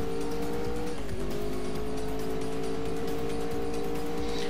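A car engine in the racing game Alarm für Cobra 11 Highway Nights, accelerating uphill at night: a loud, steady engine drone that dips briefly in pitch, then climbs slowly and holds, with tire and road noise beneath.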